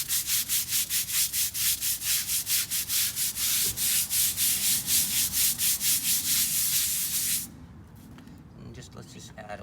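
A stiff brush scrubs cleaning paste into an oil-stained concrete driveway in about two dozen even, loud rasping strokes, then stops abruptly, leaving quieter outdoor background.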